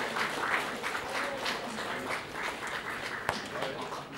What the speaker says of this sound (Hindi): गडगडाहट तालीले यो कार्यक्रमलाई भव्य बनाइदिनु हुनको लागि म हार्दिक अनुरोध गर्न चाहन्छु।